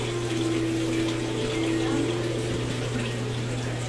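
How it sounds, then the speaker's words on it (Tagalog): Water pours steadily down into the filter of a 100-gallon aquarium, a continuous close gushing rush layered over a low steady pump hum. "So, ayun, bumababa na yung tubig papunta doon."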